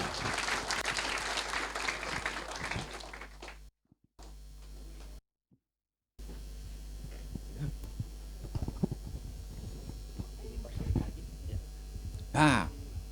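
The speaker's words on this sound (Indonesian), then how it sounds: "berikan tepuk tangan untuk Tuhan Yesus" A church congregation at an end-times seminar breaks into dense applause at first, then the sound cuts out in brief gaps and gives way to scattered claps, knocks and movement over a steady low hum.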